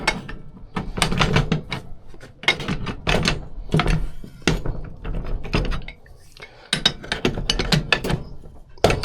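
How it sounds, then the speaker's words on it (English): An Allen wrench working an Allen bolt on a Harbor Freight jack during a big-wheel conversion, giving a busy run of close metallic clicks, ratcheting clunks and knocks, loud and irregular with no talking. "now we're just turning the Allen wrench in there, or the Allen bolt"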